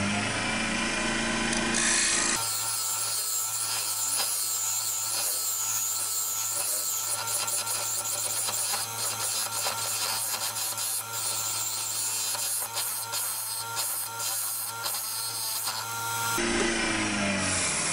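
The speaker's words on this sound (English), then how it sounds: "I'm just finishing it off with a scraper. There's a little ridge there that I want to get rid of," A woodturning scraper works a ridge off a scorched ash bowl spinning on a lathe, giving a steady close rasping scrape over the lathe's constant hum, lasting most of the clip.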